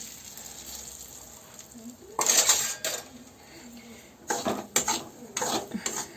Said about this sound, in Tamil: ஸோ கீ வந்து சூடாயிடுச்சு. இப்போ வந்து நான் வந்து ரவா போட்டுக்கிறேன்.